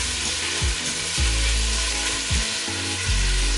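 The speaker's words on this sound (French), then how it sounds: "Et on va laisser dorer tout ça tranquillement." Pieces of veal for a blanquette sizzle steadily in a hot pan at close range, a constant crackling hiss broken by a few low thumps and scraping stirs.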